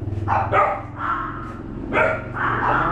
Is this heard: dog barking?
yes